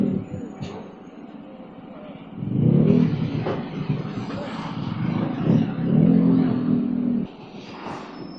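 Motorcycle ride through traffic in Sta Cruz, Zambales, with engines revving in bursts over a steady low road rumble, swelling and dropping as vehicles pass nearby.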